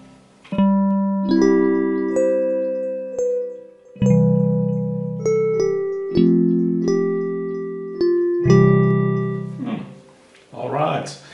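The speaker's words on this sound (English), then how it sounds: "Here's an electric piano called a Crystal EP." A Crystal EP electric piano patch on the Surge synthesiser plays sustained chords, each struck cleanly then ringing and decaying, about five in succession, with a brief voice at the end.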